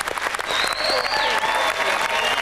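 A television studio audience at a 1997 Family Fortunes game show recording bursts into loud, continuous applause to welcome host Les Dennis, with cheering and a whistle carrying over the clapping.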